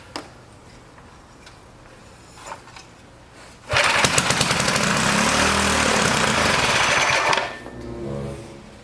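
A small engine whirs loudly for a few seconds as it's spun over by a power drill, a buzzing mechanical drone that cuts off abruptly.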